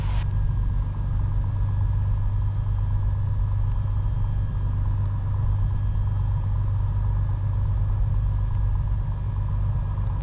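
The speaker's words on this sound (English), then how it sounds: "Engine's warming up. She's starting to speed up a little bit." A Piper Comanche 250 aircraft engine warms up with a steady, loud, close rumble that holds evenly throughout, with no talking.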